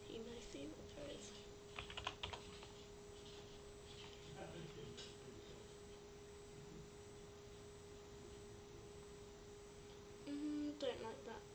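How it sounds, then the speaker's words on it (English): Keys clatter on a computer keyboard in short irregular bursts, quiet and close over a faint steady hum, with a brief louder flurry near the end. "Let me type in emo, see what there is."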